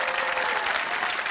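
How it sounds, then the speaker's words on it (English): A studio audience on a BBC TV quiz show claps steadily, dense and continuous applause filling the whole moment without pause. "And John, one last round of applause for a great game."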